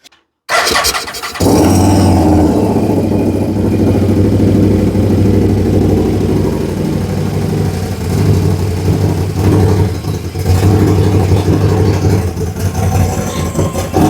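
A CF Moto Z Force 800 side-by-side that had caught fire and just had its fuel pump swapped cranks briefly and catches, then settles into a loud, close, steady idle with slight fluctuations throughout.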